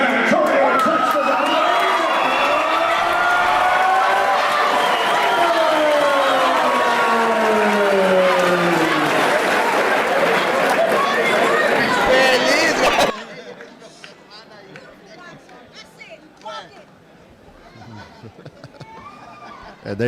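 Boxing arena crowd roars and cheers loudly for a newly crowned super bantamweight champion in Texas, a dense swell of voices with shouts, then abruptly cutting to a quieter murmur of chatter and scattered voices.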